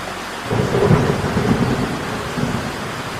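Cartoon thunder and rain effect: a steady wash of rainfall with low rolling thunder rumbles swelling through it, loud and close, with no voices.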